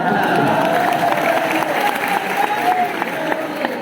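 A seated audience at Acharya Shri Vidyasagar Ji Maharaj's address to scholars on samyagdarshan breaks into sustained, dense applause that carries evenly throughout, with a faint tonal voice or sound drifting beneath it.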